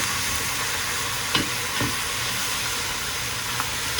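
Duck pieces fry steadily in a pan, their thick fat rendering out as a continuous dense sizzle, with a few faint clinks of stirring.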